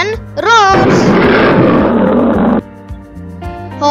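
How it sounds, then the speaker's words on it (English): A loud, rough lion roar swells and holds for about two seconds, bracketed by brief spoken words before and after. "Lion, roars."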